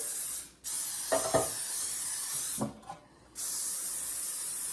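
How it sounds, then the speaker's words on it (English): A can of cooking spray hisses in two long bursts with a pause between as baking pans are coated, broken by a few soft clatters of the pans being handled. "I'm going to spray my baking pans really good."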